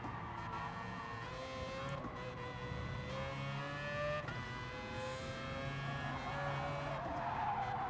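Race cars in Gran Turismo Sport, a Group 3 online race with a Citroen closing from behind, skid with sustained tire squeal over steady engine drone, loud and continuous throughout.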